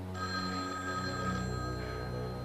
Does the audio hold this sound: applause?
no